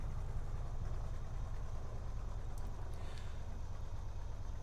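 Aircraft engine drone in Microsoft Flight Simulator 2024 during a Swiss Alpine deadstick flight, a steady low rumble like an idling engine that holds evenly throughout with no talk.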